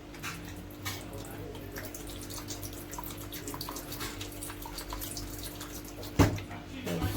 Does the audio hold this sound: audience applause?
no